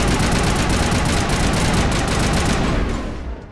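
Rapid automatic gunfire from a firefight in Mass Effect Legendary, loud and continuous bursts that taper off at the very end.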